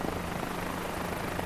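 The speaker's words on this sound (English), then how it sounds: "So we're using the Cabri G2. Nice helicopter." A Robinson-style Cabri G2 helicopter in a flight simulator game, a steady, fairly quiet rotor and engine drone over the city of Vancouver, continuous and unbroken.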